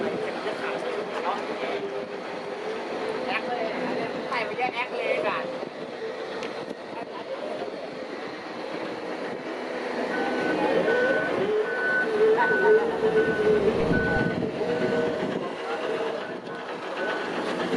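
A Sumitomo FXZ270 excavator, an older model, works at an earth-moving site, its engine droning steadily with hydraulic whine and clanking metal, growing louder and heavier midway through.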